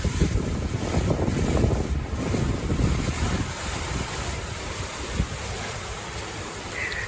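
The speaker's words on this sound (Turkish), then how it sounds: "Rüzgarla birlikte iyice şiddetlendi yağmur bak" Steady roar of wind with heavy rushing rain in foggy mountains beside a parked caravan, loud and constant throughout, gusting heavier in the first half, no voices.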